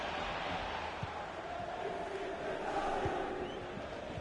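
Football crowd in a stadium giving a steady, distant roar of cheering and chanting as play bogs down in midfield, a continuous wash of voices with no single standout shout.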